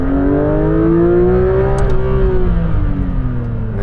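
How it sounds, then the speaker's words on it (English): Porsche 911 GT3 engine revs from inside the cabin with the windows closed, its tone climbing and then easing off in a smooth, continuous, loud drone with no speech. "I'll let you hear it with the windows up."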